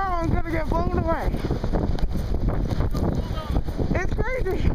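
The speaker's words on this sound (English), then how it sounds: "the wind just picked up. There's some big old gusts coming through." Strong wind gusts roar against the microphone during a blizzard, a steady loud rush that keeps going throughout, with a dog whining or yelping over it near the start and again at the end.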